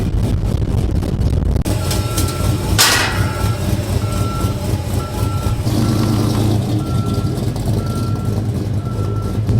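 Steady, repeated reversing beeps sound over a loud, continuous truck engine rumble, with some clanking in between; no talking.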